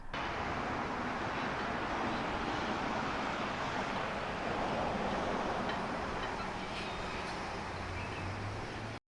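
Ocean surf and wind at Narrabeen in Sydney make a steady, dense rushing wash, close and fairly loud throughout with gusty microphone buffeting.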